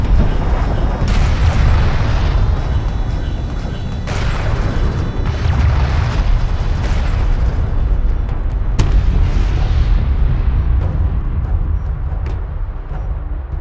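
A turret comes under fire in Homeworld: Deserts of Kharak: heavy, continuous explosions and booming impacts roll on loudly, with repeated blasts layered over a dense rumbling battle din.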